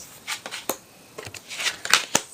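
Tarot cards are shuffled by hand in a series of soft, crisp riffles and slaps, close up and irregular, with short gaps between bursts and no talking.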